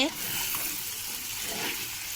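Water lily stems (shapla) fry with shrimp in a pan, a steady close sizzle and crackle holding evenly throughout.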